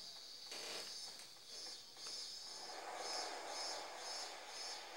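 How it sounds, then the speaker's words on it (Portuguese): Cicadas drone in a Japanese summer countryside in the video game Boku no Natsuyasumi 2, a faint, high buzzing with soft pulsing repeats over a low ambient hiss. "Olha o barulho das cigarras."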